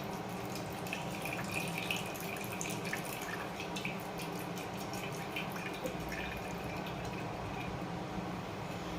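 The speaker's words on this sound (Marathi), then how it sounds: "चला असा ज्यूस सगळा मी गाळून घेते" Fresh watermelon juice trickles and drips through a strainer into a container, a faint steady pouring patter with small splashes and no speech.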